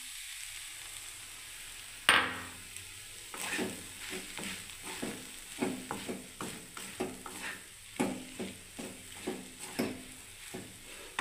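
A spatula stirs a soybean and sattu filling in a pan with a sharp first knock, then steady repeated scraping strokes over a faint sizzle.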